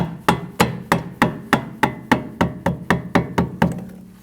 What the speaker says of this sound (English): you want to tap down on the front so it goes into the knuckle